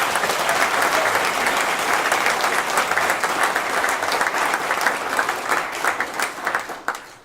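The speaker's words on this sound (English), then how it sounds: "So let's give them a round of applause." Sustained applause from a ceremony audience at a South Carolina Veteran of the Year event, honoring a veteran's family; dense, steady clapping throughout that tapers slightly at the end.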